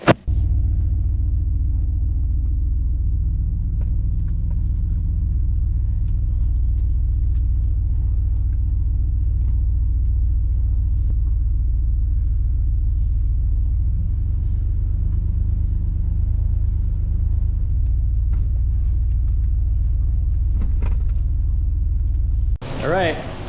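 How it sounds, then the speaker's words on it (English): A rusty flatbed truck rumbles along at a steady low idle-like drone for over twenty seconds, close and continuous, ending with a brief squeal. "we're gonna move this truck over to the other shop before we start tearing this bed off"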